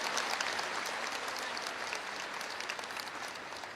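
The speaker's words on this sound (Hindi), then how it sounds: "आप सबको बहुत अच्छा लगा तो जोर से ताली बजा दीजिए" An audience at a Brahma Kumaris honors ceremony for couples married over 25 years claps steadily, a soft, distant wash of applause that fades a little as it goes on.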